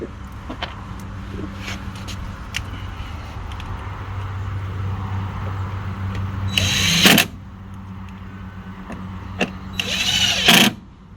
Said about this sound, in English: Get those screws back in, 3 screws.